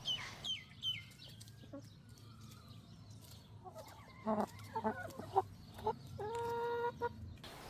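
Chickens cluck and squawk close by, sparse at first, then a busy burst of repeated clucks and calls toward the end.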